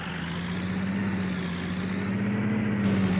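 Huerlimann tractor engine in Farming Simulator 19 runs as a steady, deep, throaty drone with a strong low hum, holding constant throughout without talk.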